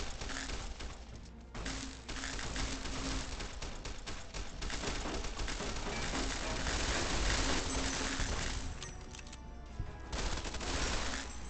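Sustained automatic gunfire from Fallout: New Vegas, a dense continuous stream of rapid shots that stays loud and steady throughout, with no speech.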